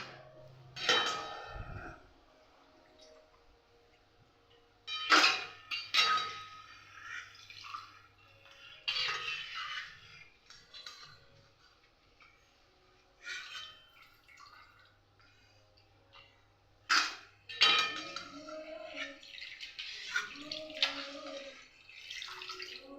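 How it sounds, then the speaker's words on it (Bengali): Food is strained in a home kitchen with metal utensils, giving scattered clinks and scrapes of metal against a pot, light dripping and faint trickling, fairly quiet and close, with no talking. "এবার আমি ছেঁকে নিচ্ছি।"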